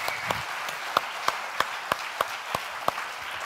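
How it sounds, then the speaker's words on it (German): Audience applause for a team at a youth hackathon event, a soft wash of many hands with distinct louder individual claps popping out in a fairly regular rhythm about every third of a second. "Team Ecowelt, das ist euer Applaus."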